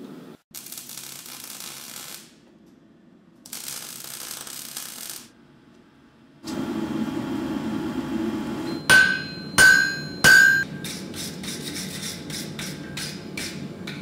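Hammer blows ring out on hot steel at a forge heated to around 1300 degrees, first a few heavy clangs then a quick series of sharp metallic strikes, after stretches of furnace hiss and roar.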